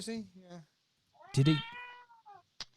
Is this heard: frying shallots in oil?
no